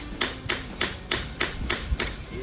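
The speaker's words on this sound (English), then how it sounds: "Come in with your hammer, and we'll flatten that out just on the end" A hammer flattens the heated end of a copper pipe with seven evenly spaced, sharp metallic blows, close and loud, with no talk.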